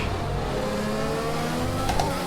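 Formula One race car engine in a Codemasters F1 racing game during a close on-track battle, a steady high-revving engine drone that holds throughout, with a brief higher-pitched whine near the end.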